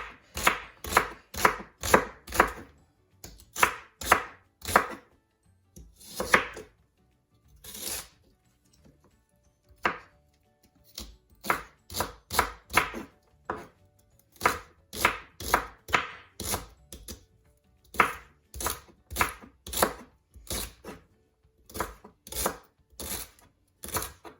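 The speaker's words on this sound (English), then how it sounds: "This is how you chop the celery and the onions" Celery and onions chopped with a knife on a board, brisk rhythmic bursts of sharp chopping strikes in quick runs with brief pauses between, close and loud with no talk.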